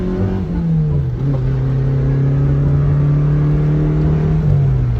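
Car engine held at steady revs by a makeshift hand throttle after a snapped accelerator cable, a sustained close hum that rises slightly and then settles, with no speech.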